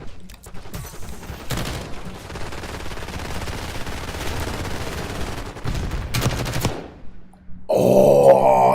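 Sniper rifle fire in a video game, with bursts of shots and rumbling noise cutting in and out over several seconds. A loud, sharp tonal burst cuts in at the end.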